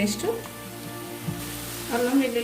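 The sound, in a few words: frying ginger garlic paste in a pan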